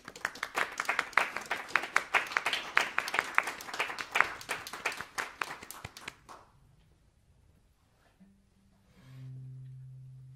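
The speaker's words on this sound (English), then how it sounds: "give you a little round of applause" A small online audience for young composers at the Junior Royal College of Music claps in a scattered, uneven round for about six seconds, then it falls to near silence with a faint low hum at the end.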